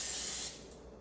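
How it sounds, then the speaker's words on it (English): Pam cooking spray hisses onto a pan in one steady close burst of about half a second, then fades to quiet room noise. "taking your Pam and seasoning your, not seasoning, spraying your pan so that it's not gonna stick"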